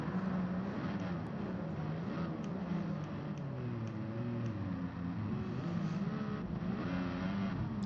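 A racing car engine in Gran Turismo Sport drones steadily throughout, its pitch rising and falling gently as the car accelerates and eases off, with no talking over it.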